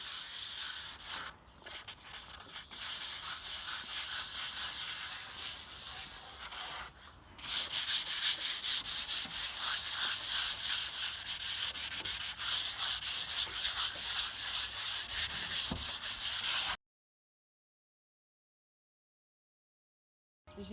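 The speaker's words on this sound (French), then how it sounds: "je vais avec mon sanding pad égrener un tout petit peu la peinture pour la rendre plus lisse" Sanding pad rubbing lightly over painted furniture to smooth the paint, a steady close abrasive scraping that grows louder midway and runs without talk until it stops near the end.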